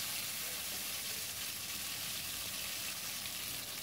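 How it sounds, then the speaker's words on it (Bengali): Pieces of bhetki fish frying in oil for a doi bhetki dish, giving a dense, even hiss of sizzling that stays constant and fairly loud with no breaks. "এভাবে 2 পিঠ খুব ভালো করে ভেজে নিতে হবে।"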